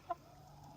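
A single short, faint cluck from a chicken sitting in a henhouse, a brief isolated call over a quiet background.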